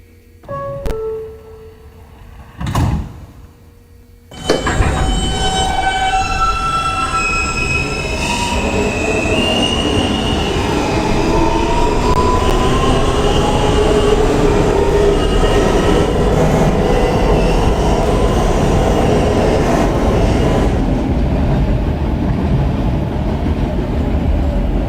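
An R160 N subway train departs the station: a couple of brief clunks and door sounds, then a loud rising roar of motors and wheels, with squealing tones sweeping in pitch as it gathers speed.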